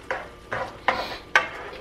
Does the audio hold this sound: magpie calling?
no